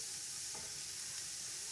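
Chopped capsicum hits a hot pan of frying egg fried rice with vegetables, setting off a constant, quiet sizzle with a brief stirring scrape in the middle.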